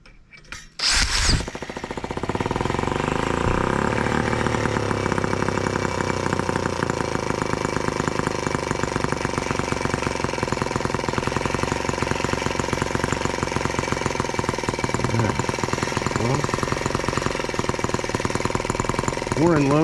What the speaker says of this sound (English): Let's start it again.